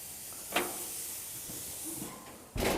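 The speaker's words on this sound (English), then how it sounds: "listen to that sizzle" Food, including pineapple, hisses and sizzles steadily on a hot grill, with a few brief louder bursts of spitting.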